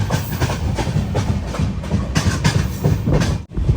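Kacheguda Murdeshwar Express pulling into Bhatkal station, a steady rumble of rolling carriages with rhythmic clickety-clack of wheels over rail joints, heard close from on board with no talk.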